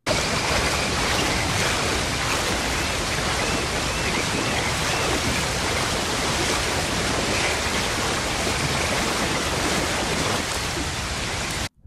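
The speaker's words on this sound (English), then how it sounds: "That is one spectacular looking waterfall." A waterfall in the video game Red Dead Redemption 2 sends out a dense, steady rush of falling water. The sound stays even and constant throughout, with no voices.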